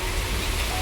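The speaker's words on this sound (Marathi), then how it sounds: "पाऊस" Steady monsoon rain pours in a dense, even hiss, close and loud throughout the short moment, with no voices over it.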